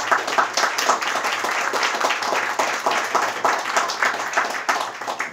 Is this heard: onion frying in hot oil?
no